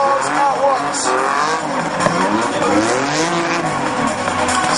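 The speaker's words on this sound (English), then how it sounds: "Donuts in two cars at once." Two cars spin donuts together on a wet track, tyres squealing and sliding in long wavering wails over roaring, revving engines, loud and continuous throughout.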